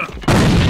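A grenade goes off in a video game as a sudden loud, broadband boom that cuts in abruptly and keeps roaring to the end of the brief moment.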